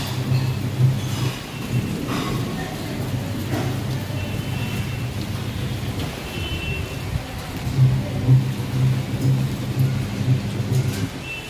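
Heavy rain pours steadily on surfaces outdoors while deep thunder rumbles and rolls in the distance, loud and continuous with no voices.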